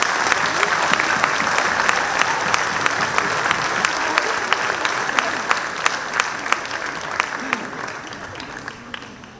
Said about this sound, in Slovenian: En aplavz za Andraža.